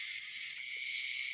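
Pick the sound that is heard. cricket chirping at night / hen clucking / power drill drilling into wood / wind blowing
cricket chirping at night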